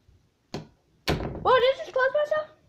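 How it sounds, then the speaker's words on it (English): A door in a creepy horror video game closes by itself with a dull thunk, then a second heavier knock. A startled voice reacts right afterward. "Whoa, did it just close by itself?"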